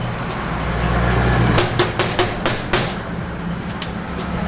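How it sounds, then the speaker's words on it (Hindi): Metallic clicks and clanks from a wrench loosening bolts on the self-starter of a Mahindra 475 DI tractor, a handful of sharp taps over steady low hum, no speech. "पहले कटोरा के 2 बोल्ट खोल देते हैं।"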